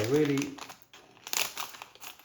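Crinkling shrink wrap on a used 12TB Seagate Enterprise hard disk rustles and crackles in irregular bursts as it is handled and cut with scissors, close up, following a brief voice at the start.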